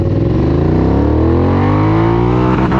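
A Royal Enfield GT650 motorcycle accelerating hard through a gear at full throttle, its loud, steady engine note rising in pitch continuously, close and alone with no talk.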